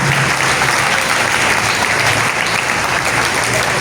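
Loud, sustained applause from a large audience at a charismatic church gathering, dense steady clapping filling the whole stretch without letting up.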